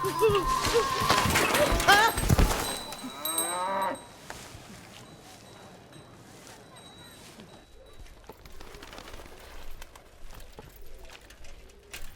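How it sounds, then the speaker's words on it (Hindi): Buffaloes mooing in a residential neighbourhood, with loud close lowing calls in the first few seconds, then quieter ambient sounds with faint birds. "हमारे मोहल्ले में इंसान कम और भैंसें ज्यादा रहती हैं"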